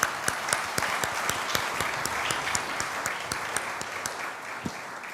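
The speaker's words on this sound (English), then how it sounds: "Join me to a round of applause to Hélène" A conference audience gives a steady round of applause, dense clapping throughout with a few sharper individual claps standing out, fairly close and without talk.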